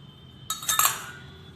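A metal lid pressed down to cut sanjori dough made with rava and jaggery gives a brief bright clink and a light scrape, close and alone over a quiet kitchen background.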